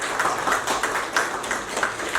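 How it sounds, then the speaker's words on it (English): An audience claps in steady, fairly dense applause at a wellness event in India, with individual claps popping out now and then through a continuous rattling wash, no speech over it. "So need your clapping for that."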